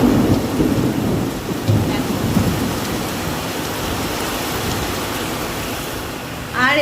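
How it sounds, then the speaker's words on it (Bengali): Steady heavy rain with low rumbles of thunder, strongest at the start, then a constant wash of rainfall, with no talk. "আজকে দেখো বৃষ্টি স্টার্ট হয়ে গেছে। আর তার সাথে কিন্তু আকাশও ডাকছে, বিদ্যুৎ চমকাচ্ছে,"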